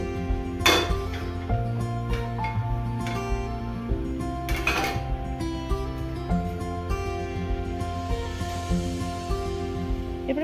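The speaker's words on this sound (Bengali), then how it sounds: "গ্যাসটাকে জ্বালিয়ে এর মধ্যে একটা প্যান বসিয়ে দেবো।" A pan set on a lit gas stove while a ginger candy is cooked, giving several sharp metallic clanks and clinks of cookware over a low steady hum, with no talk.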